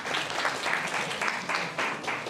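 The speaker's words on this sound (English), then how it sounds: "Please give them a round of applause," An audience at a student entrepreneurship week claps for a student group's presentation, a moderately loud, continuous spread of many hands with slight swells and a few sharper bursts.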